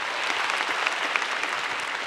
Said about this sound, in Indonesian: Ya, boleh tepuk tangan buat Gautama dong.